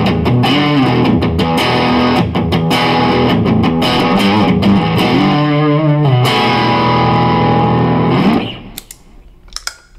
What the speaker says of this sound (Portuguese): Agora para o som pesado aqui com delay,